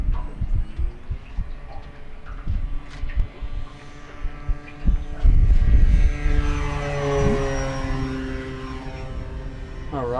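FMS Ranger 1800mm RC float plane flying on its maiden flight, a steady electric propeller whine rising and falling in pitch as it passes, fairly close and loud, with a louder swell midway.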